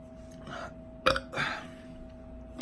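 A short burp after eating a chocolate ghost pepper, followed by softer throaty sounds in an otherwise quiet room.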